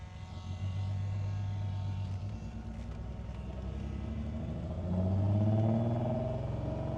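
A Datsun 240Z engine hums steadily on its first drive around the block, heard from inside the car, then revs up louder and higher as it accelerates near the end.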